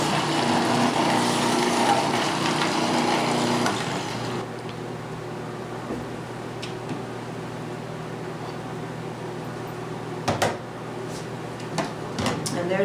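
A KitchenAid food processor shreds purple cabbage for a rainbow salad, its steady motor whir running loud for about four seconds before cutting off, leaving a quieter room with a few scattered clicks and knocks.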